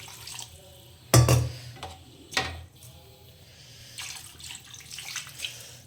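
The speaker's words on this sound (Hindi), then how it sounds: "थोड़ा पानी एक्स्ट्रा डाल देते" Water is poured into a cooking potato and radish vegetable curry, with two short splashing pours over a soft, steady background hiss.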